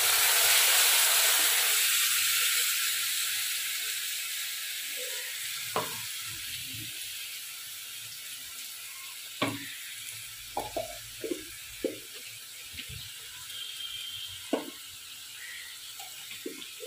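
Onions browning in a pan sizzle steadily as spice paste of garlic, ginger, onion and tomato goes in, a loud hiss at first that settles into a softer fry broken by sharp stirring clicks and spatters.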